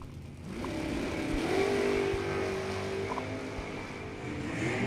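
A 1969 Camaro race car roars along a racetrack, its engine note swelling and holding steady at mid distance with a faint rise in pitch, loud and continuous with no talking.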